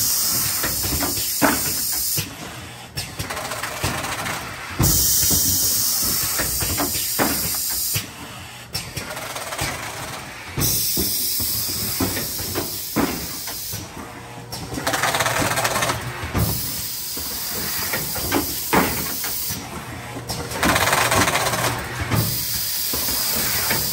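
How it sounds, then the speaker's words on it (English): An Eagle T20CF carton folding machine runs in automatic mode, producing steady pneumatic hissing and mechanical clatter with periodic bursts of air as cycles repeat, loud and close throughout with no speech. "The suction cups grab the carton, pulls it out, then folds all the major and minor flaps."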